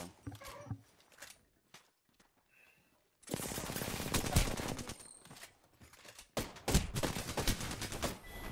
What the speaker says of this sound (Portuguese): Tem muito tiro na Bangalore.